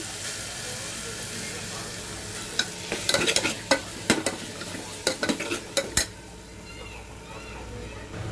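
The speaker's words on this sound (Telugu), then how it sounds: "సో ఇలా వేసుకున్న కారాన్ని బాగా ఒక 5-6 నిమిషాలు అయితే వేయించుకోవాలండి" Chili powder fries in oil in a pan over a medium flame, a soft steady sizzle broken by a burst of sharp spoon scrapes and clatters against the pan as it is stirred, then easing back to quiet sizzling.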